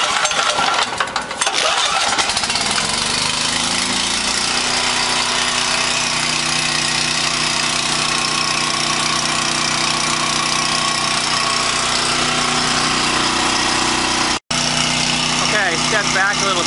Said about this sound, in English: The generator is running really smoothly. It sounds great. There's no rough idle on it.